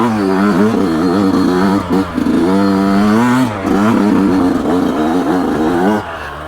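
Yamaha YZ125X two-stroke dirt bike climbing a steep hill in second gear, a loud, close engine that revs up and down in uneven surges with short drops in between.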